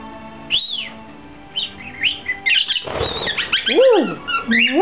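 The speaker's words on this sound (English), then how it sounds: "Hey, tell those birds, Spike." Small birds chirp and tweet in quick, scattered bursts with rising and falling whistled calls, close by and lively, over a soft background hum.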